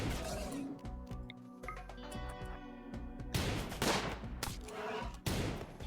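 RimWorld video game gunfire, with bursts of rapid shots and sharp cracks that rise loud and dense toward the end, over a low background hum.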